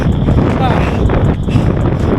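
Strong wind roars steadily across the microphone during a hot, humid hill-repeat running workout, a loud, continuous buffeting rush that fills the whole moment.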